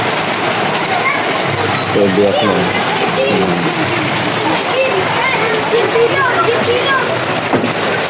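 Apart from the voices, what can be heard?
heavy rain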